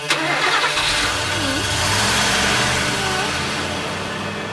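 A van's engine starts on a film shoot set, cranking briefly before catching and settling into a loud, steady idle with a slight rev, close by.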